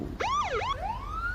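A police car siren rises, dips and swoops in wailing pitch sweeps, then holds a long climbing tone. It is loud and clear over a low background rumble.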